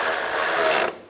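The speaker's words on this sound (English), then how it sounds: "Now we'll tighten down the bolts." Rapid ratcheting from a hand ratchet snugging bumper cover bolts on a 2011-2019 Ford Explorer, a dense close-up clicking burst lasting under a second before cutting off.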